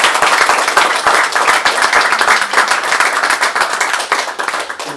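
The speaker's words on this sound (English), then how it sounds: "Can you clap to this," An audience claps along in a quick steady rhythm during a leadership church talk, sharp individual claps mixed with broader applause, loud and near throughout.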